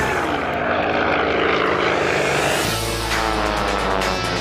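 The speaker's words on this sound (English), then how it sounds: "The Yak 18T's 360 horsepower radial engine can propel the aircraft to speeds of over 180 miles per hour" A Yak-18T with a 360 horsepower radial engine performs at an air show, its propeller engine droning loudly and steadily throughout, with the pitch shifting midway as it passes.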